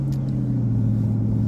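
A car drives home along the road, a steady low engine drone and tire rumble heard from inside the cabin, continuous and even, with no talking.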